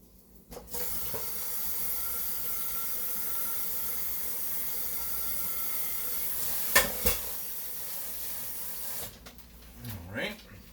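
A breakfast sandwich sizzles in a hot pan with a steady, bright hiss and a couple of sharp pops, then clattering handling noises near the end.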